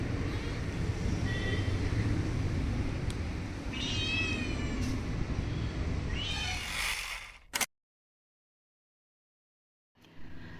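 A kitten gives a few short, high, thin meows at a distance, nearly buried under a steady broad hiss of background noise, before a sudden cut to silence and a brief return of noise.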